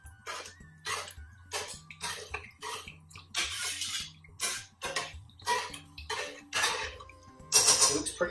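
Lamb madras curry with coconut being stirred in a pan, a steady rhythmic run of scraping, clacking strokes of a utensil against the metal, close and fairly even throughout.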